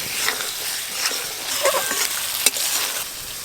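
A spice paste with raw mango is stir-fried in a pan, giving a dense, continuous sizzle with a few sharp scrapes and clacks from stirring.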